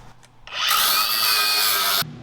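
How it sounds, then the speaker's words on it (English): A power tool cutting through a weld on a rat rod wrecker truck, a high, harsh whine that spins up and holds steady for about a second and a half, then stops abruptly. "All right, I gotta cut that weld, I guess."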